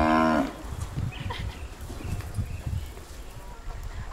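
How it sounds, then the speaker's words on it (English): A small cow in India gives one low, drawn-out moo at the very start, followed by softer rustling and movement from the herd close by. No one speaks. "Oh, how sweet they are, these small cows."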